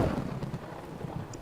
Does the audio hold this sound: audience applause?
no